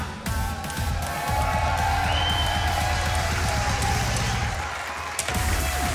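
A comedy show audience applauds and cheers after a magic act performed on a unicycle, loud sustained clapping throughout with crowd noise and a brief dip toward the end.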